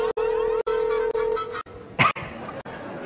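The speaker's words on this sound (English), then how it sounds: "Nice ringtone." A phone's ringtone plays in steady repeating tones with short gaps, near and clear, and is then cut off by a brief burst of other sound.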